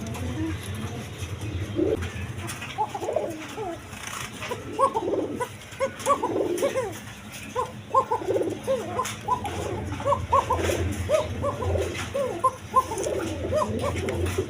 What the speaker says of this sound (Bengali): অরিজিনাল বাসিরাজ কবুতর